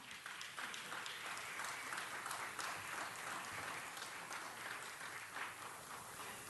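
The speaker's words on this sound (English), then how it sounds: "Could we give Ed Reyes a round of applause?" Steady applause from the chamber at a city council meeting greets former council president Ed Reyes, an even wash of many hands clapping at moderate volume throughout the six seconds with no voices over it.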